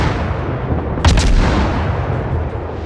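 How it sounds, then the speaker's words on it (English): Naval artillery firing from a battleship in the World of Warships video game, with a sharp cannon report rising out of constant loud engine and ocean rumble. "You're firing at a battleship."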